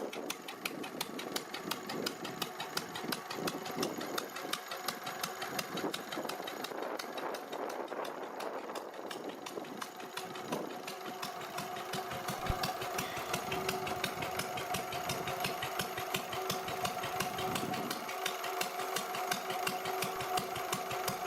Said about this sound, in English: their steady, rhythmic pop-pop sound evokes a bygone era of farming